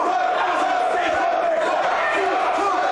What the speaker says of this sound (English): And the crowd letting Shay McCoy hear it.